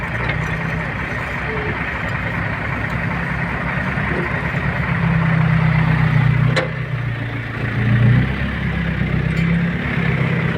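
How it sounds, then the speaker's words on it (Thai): A backhoe excavator engine runs steadily while it scoops soil into a waiting dump truck at a Thai earthmoving site. The engine drone rises and falls with the load, mixed with idling truck noise and occasional clatter. "ตอนนี้ก็เป็นแมคโครตักใส่รถดับเรา"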